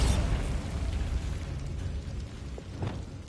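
Hogwarts Legacy's Bombarda explosion spell erupts in a loud burst, then a rumbling tail slowly fades under a few faint crackles.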